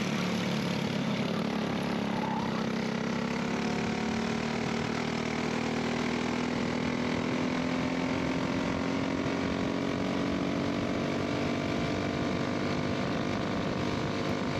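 A racing kart engine drones at high revs during a kart race at VIMC, its buzzing note climbing slowly and steadily throughout, heard continuously and fairly close without any talking.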